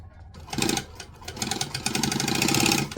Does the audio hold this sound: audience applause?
no